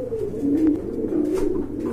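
A pair of big black pigeons gives a close, continuous throaty coo that wavers and rolls for the whole moment, alone with no talking.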